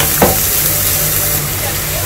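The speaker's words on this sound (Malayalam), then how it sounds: "ചെമ്മീൻ വറുത്ത എണ്ണയിലേക്ക് തന്നെ ഇപ്പോൾ നമ്മൾ കൊത്തി അരിഞ്ഞു വെച്ചിരുന്ന സവോള ചേർത്ത് കൊടുക്കുകയാണ്." Chopped onions hit hot oil left from frying prawns and sizzle loudly and continuously, with a brief stir or scrape near the start and a steady crackling hiss after.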